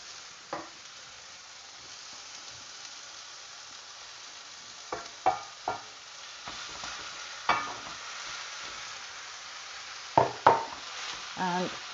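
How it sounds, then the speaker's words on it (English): Carrots, onions and minced meat cook in a pan for shepherd's pie, with a low, steady sizzle and a few sharp knocks and scrapes of a utensil against the pan. "We can now add the meat into this."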